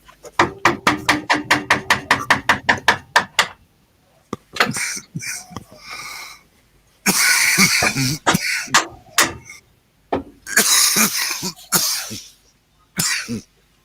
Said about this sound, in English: Stop making him cough.